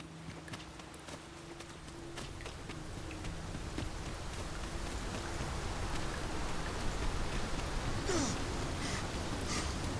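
Rain falling in the video game Dragon's Dogma 2, a steady broadband patter that builds gradually louder, with scattered clip-clop footfalls and faint game sounds mixed in.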